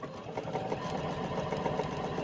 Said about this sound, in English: pivot, sew across the top, which will secure the ribbon in place, pivot, and down this last side